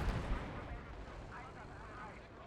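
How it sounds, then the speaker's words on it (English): Mortar fire in the World War II strategy game Gates of Hell booms continuously as a dense, low rumble of distant blasts. "That mortar, man."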